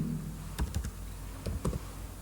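Keys tapped on a computer keyboard while a file name is typed in a save dialog for an HTML webpage: two short clusters of crisp clicks over a faint steady room hum, no talking.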